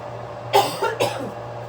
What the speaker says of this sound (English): I'm coughing away from the food.